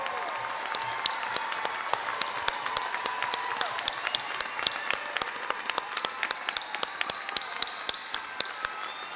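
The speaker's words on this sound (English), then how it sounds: "Will the graduates rise and we'll give you another round of applause." Sustained applause for graduates rising at a 2019 high school commencement ceremony in Ann Arbor, a crowd clapping steadily with sharp individual claps standing out near the microphone, no speech over it.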